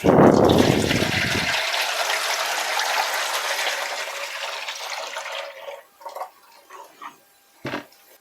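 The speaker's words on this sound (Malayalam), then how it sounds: "ഡിഷ് ഒന്ന് നനച്ച് വെച്ചതിന് ശേഷം അതിലേക്ക് ഒഴിക്കുകയാണ് ചെയ്യുന്നത്" Liquid rubber latex mixed with water gushes from a container into a wetted metal sheet-making dish, a loud pouring rush that fades into soft dripping and a few faint clinks.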